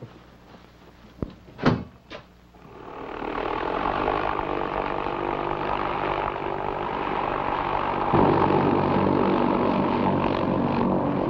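After a couple of sharp door-like knocks, a light aircraft engine starts and settles into a loud steady propeller drone nearby, rising slightly in intensity toward the end.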